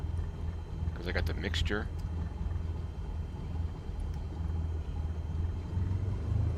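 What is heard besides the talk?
aircraft engine sputtering in the video game Microsoft Flight Simulator 2020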